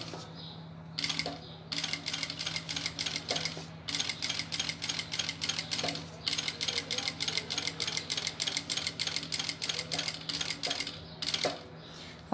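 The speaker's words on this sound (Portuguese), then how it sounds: "Aqui eu dou 2 pontinhos, volto 2 pontinhos de retrocesso, ó, e sigo costurando toda a volta da moldura." A sewing machine stitches around a bag frame in quick, rhythmic mechanical bursts of clattering needle strokes. The runs stop briefly several times and then resume, with a low motor hum underneath, all fairly quiet.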